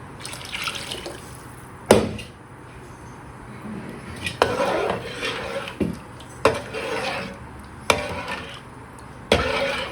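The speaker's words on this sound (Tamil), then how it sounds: "தண்ணி நமக்கு வேணுங்கிற அளவு தண்ணி ஊற்றிக்கணும்." Water splashes into a pot of Madurai-style fish kolambu, a steady pour broken by several sharp clinks and splashes, close and moderately loud with no talking.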